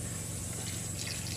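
Vinegar poured into a pan while cooking a Filipino dish, a steady liquid gush and splash heard close and continuous for the whole moment, with no talking.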